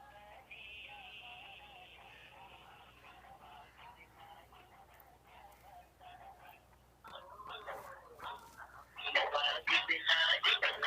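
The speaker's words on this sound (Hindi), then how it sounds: "ये कॉल मिल रही है, उठाता नहीं है" An outgoing phone call ringing unanswered, with a faint repeating ringback tone and a voice talking quietly, followed by louder bursts of sound toward the end.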